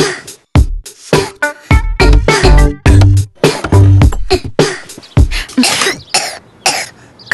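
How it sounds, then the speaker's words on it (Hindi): A child in a home setting coughs repeatedly in harsh, close bursts with throat-clearing between them, loud and irregular, with brief quiet gaps. "खांसी छुपा रहे थे क्यों?"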